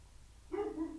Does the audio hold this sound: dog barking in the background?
yes